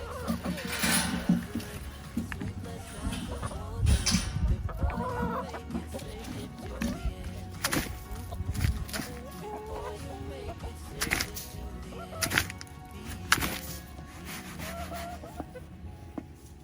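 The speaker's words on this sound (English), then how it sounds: "let's get these chickens fed" Backyard chickens cluck and squawk at feeding time, with a rooster crowing among them, several birds calling close by in irregular bursts along with some scuffing and a little talk.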